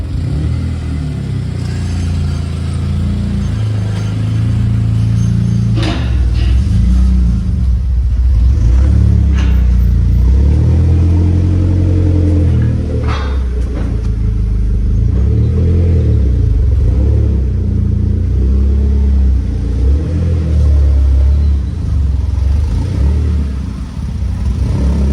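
A 20-year-old SAAB car runs on dyno rollers, its engine rumbling loud and close as it revs up and down in repeated surges over a constant deep roar.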